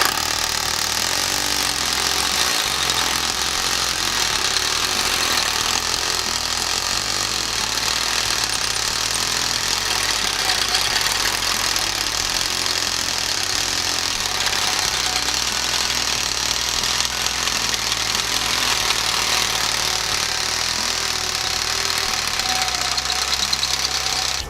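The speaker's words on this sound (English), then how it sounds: "nothing beats a rotary hammer" A big rotary hammer drills continuously, delivering a loud, dense, fast hammering pulse with a steady motor whine throughout, close up and without any talking.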